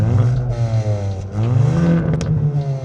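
The engine of a Hyundai i20N hot hatch revs hard and close by, the loud growl rising and falling in pitch through repeated blips, with a brief crackle near the end.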